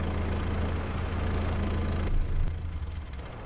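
Tractor engine idling in the farming game Farming Simulator 22, a steady low rumble that holds evenly for a few seconds before a brief shift near the end, with no talk over it.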